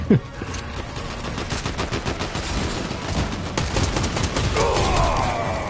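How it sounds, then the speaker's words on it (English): Sustained gunfire in Fortnite, steady bursts of shots rattling close and loud throughout, with a rising whooshing effect toward the end. "They're shooting us."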